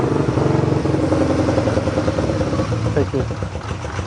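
Motorcycle engine after a carburetor clean, starting on choke in neutral and settling into a loud, close, uneven rumbling idle with clattering pulses, steady for several seconds before loosening slightly.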